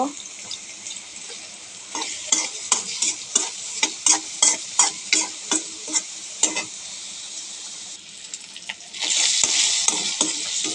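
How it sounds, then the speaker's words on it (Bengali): Sliced onions fry in a pan after fish, with a spatula stirring and scraping in a quick regular rhythm over a constant sizzle that grows louder near the end. "এখন আমি পেঁয়াজ লাল করব।"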